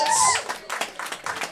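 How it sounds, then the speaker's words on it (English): Applause from an audience for hypnosis show volunteers on stage during a comedy stage hypnotist's show in Blackburn, with a few scattered claps building after a brief tonal sound at the start. "Let's have a lovely round of applause for our volunteers up here on stage tonight."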